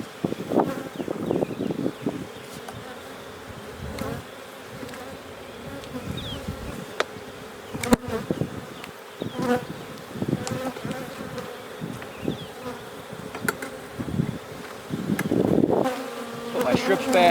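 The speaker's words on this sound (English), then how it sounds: "Lots of bees. That's what we like to see." Honey bees in an opened hive during a May inspection hum in a dense, continuous close-up buzz, with intermittent thumps and rustles from handling the frames.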